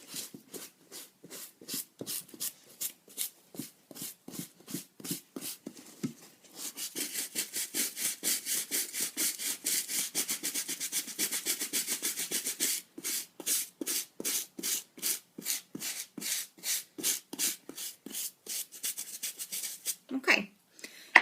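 Soft, rhythmic brushing strokes as an UGG sheepskin boot is scrubbed with baby shampoo, close and steady, running in quick even passes with a denser stretch midway and a brief pause before resuming.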